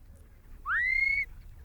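A shepherd's single short rising whistle command to working collie sheepdogs out in open country, clear and fairly loud against quiet wind, lasting about half a second.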